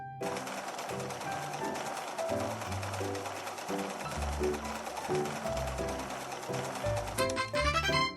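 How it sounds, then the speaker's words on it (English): A sewing machine stitches a puffy skirt in steady rapid bursts with brief pauses. It sounds loud and close, with background music throughout. "Now we're sewing the puffy skirt."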